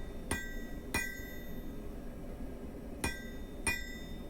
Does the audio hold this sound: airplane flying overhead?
no